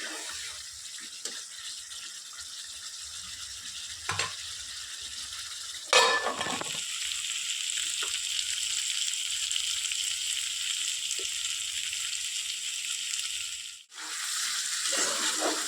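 Potatoes and spices frying in a pan for an egg omelette curry, a steady close sizzle with occasional scrapes and knocks of stirring and a sharp clatter midway, no talking.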